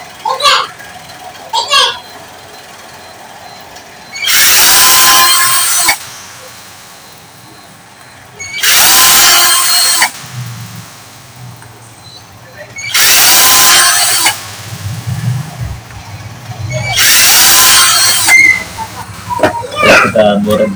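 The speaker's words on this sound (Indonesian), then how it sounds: "Kita bor begini, kita bukan ukuran ini, nanti gram-gram ini dibersihkan ya." Drill boring out a motorcycle piston for a New Soul GT 125 fitted with a Fazzio piston: four loud, close whirring bursts, each lasting a second or two, separated by pauses with someone talking.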